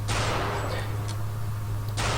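Sharp, loud bursts of gunfire in the game Return to Castle Wolfenstein stand out against a constant droning background hum, with two main volleys and a brief crack between.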